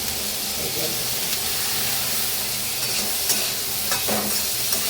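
Coconut shreds, onion and garlic fry in a pan with a steady, close sizzle and hiss, with occasional stirring scrapes over the continuous crackle.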